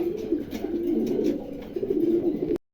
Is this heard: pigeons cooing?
yes